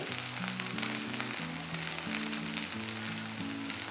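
Kashmiri chilli, asafoetida and coriander sauté in plenty of oil for a street-style kara chutney, giving a steady, even sizzle with soft background music underneath.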